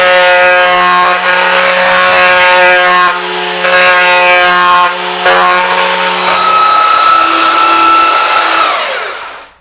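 A small triangular detail sander whines steadily at close range on parquet flooring, its motor pitch holding then dropping as it spins down at the end.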